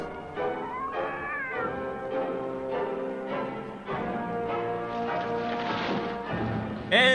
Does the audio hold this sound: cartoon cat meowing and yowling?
yes